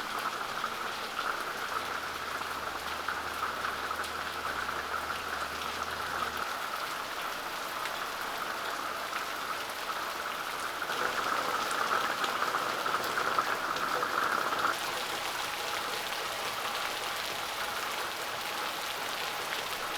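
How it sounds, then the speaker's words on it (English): Steady rain falls on rooftops, a dense continuous hiss of drops pattering close by, swelling slightly heavier for a few seconds midway and then settling back, with no voices. "Let's go look at the rain."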